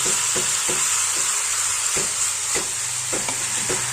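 Ground ginger and cumin paste frying in a pan, a continuous close sizzle and hiss broken by regular scraping stirs of a spatula.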